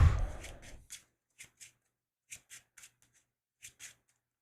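A deck of playing cards shuffled on a table in a card game, a few soft riffling bursts in a short irregular series, close and quiet, with no talk.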